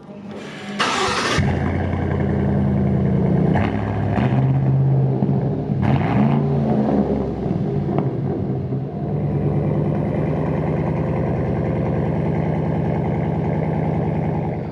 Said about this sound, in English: how insane this truck sounds with the SCA Performance exhaust